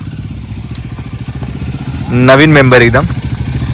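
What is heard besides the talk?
new Royal Enfield Guerrilla motorcycle arriving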